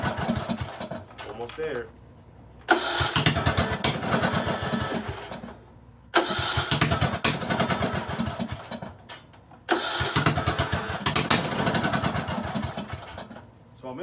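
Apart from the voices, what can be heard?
Briggs and Stratton small engine starting and running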